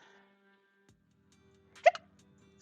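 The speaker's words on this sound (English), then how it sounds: "Excuse me, random hiccups today." A single hiccup, close and sharp, stands out against near silence in a quiet indoor room.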